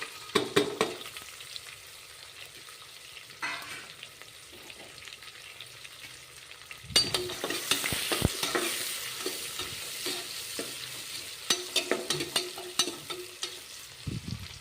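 Long-sliced onions fry in a pan, a quiet low hiss that jumps into a louder sizzle midway, with sharp scraping taps from stirring scattered through it and no speech.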